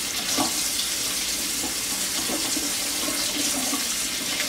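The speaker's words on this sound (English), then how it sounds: "I just stick it right in the water" A plastic NES cartridge case is pushed under a running tap, with steady water splashing and hissing in a sink and brief clatters of handling, no talk.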